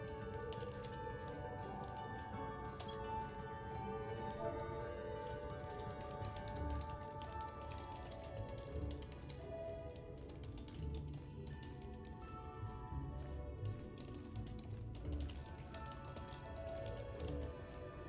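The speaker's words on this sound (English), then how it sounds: "Hang on, I'm typing a..." Computer keyboard typing during a Final Fantasy XIV: Shadowbringers game session, the clicks faint and scattered over steady game music that fills the background throughout.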